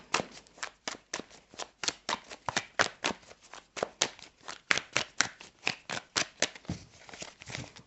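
A deck of cards is shuffled over and over, with quick, crisp, papery strokes in a steady repeating rhythm, close and distinct, with no talk.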